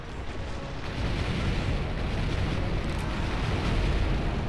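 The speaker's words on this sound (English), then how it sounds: "Nice ballista shot." A heavy ballista shot in Monster Hunter Generations Ultimate lands as a dense, rumbling blast that swells and holds steady for several seconds, loud and close.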